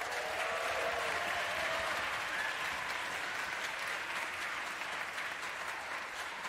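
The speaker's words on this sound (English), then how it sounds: "Let's give him a round of applause." Steady, dense applause from a large concert audience at an honors concert for a prize-winning performer, a continuous wash of clapping at even volume that holds throughout without pauses.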